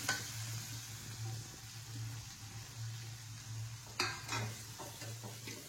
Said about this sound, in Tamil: நம்ம கட் பண்ணி வச்சுருக்க சின்ன வெங்காயத்தை அதில் சேர்த்துடலாம். சேர்த்து நல்லா வதக்கணும்.